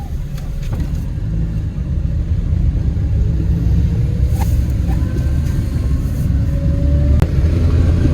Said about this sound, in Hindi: मैं न्यूट्रल करके पहले गियर में लेके जा रहा हूँ